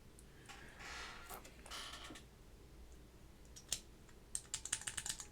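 Quick, light keystrokes from a test on a Keycult No.2/65 keyboard with Alps switches come in a short burst of soft clicks near the end, faint and close, after a quiet stretch.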